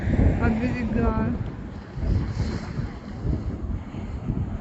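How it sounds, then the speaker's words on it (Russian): Windy seashore with sea waves breaking on the shore, a continuous rushing surge under heavy wind buffeting the microphone, with a person speaking near the start. "Вот они, видите, волны пошли, начинают уже биться от берега."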